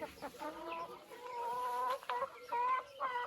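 Several chickens cluck and chatter nearby in short, overlapping bursts, with a few longer drawn-out calls, fairly loud and with no talking.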